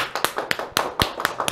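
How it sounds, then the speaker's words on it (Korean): Sharp, irregular claps sound close and crisp, a handful of separate hand strikes rather than a full crowd, ringing out over about a second and a half in a church or lecture setting. "아주 훌륭하게 박수 한번 하도록 하겠습니다"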